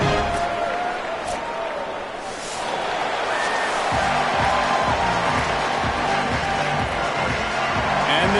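A stadium crowd in the EA CFB 27 college football video game, Hawaii versus Kansas, murmurs and cheers steadily at moderate volume, with a brief rhythmic chant or band-like pulse joining midway.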